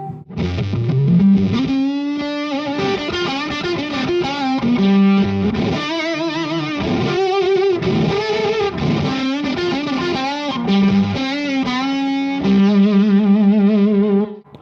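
A guitar through a King Tone germanium fuzz pedal with the guitar volume cranked up, playing thick, distorted riffs and sustained bent notes, loud and close, with no talking.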